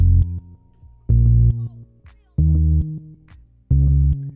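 A deep, punchy synth bass plays four repeating notes, each followed by quick sixteenth-note delay echoes that trail off between hits.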